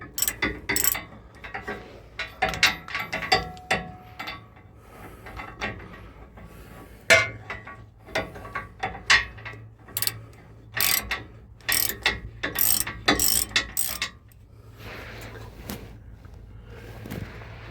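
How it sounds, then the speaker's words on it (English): A ratchet wrench turns bolts on a Duramax LMM diesel engine, giving close, rapid bursts of metallic clicking in uneven runs with short pauses between them and no talking. "I will switch to ratchet though"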